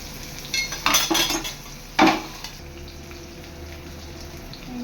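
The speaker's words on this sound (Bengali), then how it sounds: "গোটা জিরা দেওয়ার পর নাড়তে হবে" Whole cumin seeds stirred in hot oil in a pan: a few quick scraping, clinking strokes of a utensil against the pan in two short bursts, then a quieter sizzling background.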